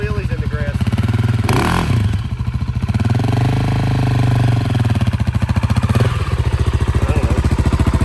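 A 2024 KTM 690 SMC R single-cylinder motorcycle revs loudly and close on grass, its engine note rising and falling through throttle blips with a brief drop near the middle.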